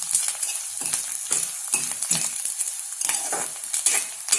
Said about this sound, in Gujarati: હવે આપણે ગુંદ કૂટી નાખ્યું છે એ આપણે તળી નાખશું.